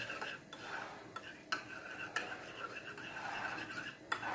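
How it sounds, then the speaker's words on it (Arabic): Cream and starch mixture with whipped cream being stirred by hand in a bowl, a steady soft scraping with a few sharper spoon clinks against the sides, close and fairly quiet. "هنقلب بقى كل الخليط ده كله مع بعض."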